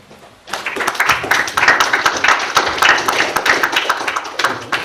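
A crowd of mainly developers at a tech talk greets a new corporate CTO with applause that starts abruptly after a short quiet, then runs as close, lively, crisp clapping.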